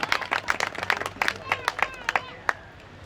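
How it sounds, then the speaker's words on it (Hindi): A crowd at a cricket final claps to welcome a guest, loose uneven hand claps, some sharp and close, over a murmur of voices and chatter. "जोरदार तालियां"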